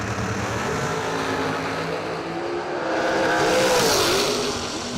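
Drag racing at a bracket nationals event, with a dragster and a shorty unit from New Boston, Michigan launching down the strip; loud sustained engine roar that swells toward the end, with no talk.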